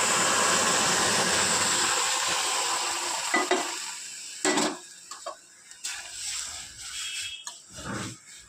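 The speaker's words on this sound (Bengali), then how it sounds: "তেল দিয়ে দিচ্ছি, আর তেলের মধ্যে দিয়ে দিচ্ছি কালো জিরে" Nigella seeds sizzle loudly in hot oil in a heated kadai for tempering dal, a steady frying hiss that fades, then gives way to scattered clinks and scrapes of utensils against the pan.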